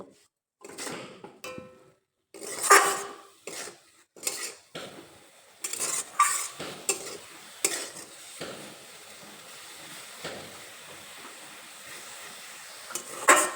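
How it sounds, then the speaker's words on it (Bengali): Radish greens are stirred with salt and turmeric in a pan, a utensil scraping and clinking against the metal in repeated irregular strokes, close and clear, with a faint sizzle underneath. "এখন নেড়ে চেড়ে নেব লবণ আর হলুদ গুঁড়ো শাকের সঙ্গে খুব ভালোভাবে মিশিয়ে নেব"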